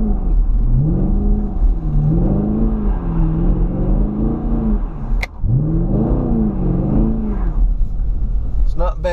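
A 2016 Chevrolet Camaro SS V8 doing donuts with traction control off, its engine rising and falling in repeated loud revving swells with tyre roar, heard close from inside the car, someone talking over it.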